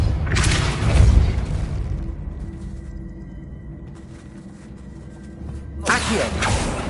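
Depulso spell impact in Hogwarts Legacy, a heavy booming burst with a whoosh, then a quieter stretch and a second strong impact near the end.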